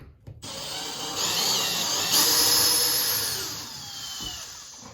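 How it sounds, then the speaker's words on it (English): A power drill removing ceiling fan mounting screws whirs for several seconds, rising in pitch and then winding down, alone without talk. "you can use a power tool like I have"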